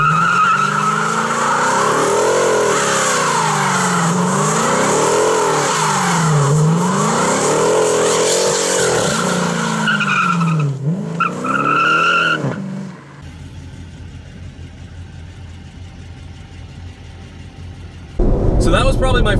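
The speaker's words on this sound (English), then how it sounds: "what is the first car I've ever done a burnout in? That would probably be my 2014 RT Charger," A 2014 Dodge Charger R/T doing a burnout, its engine revving and wavering over a loud, continuous tire squeal for about thirteen seconds, then cutting to quieter background noise before a sudden loud burst at the end.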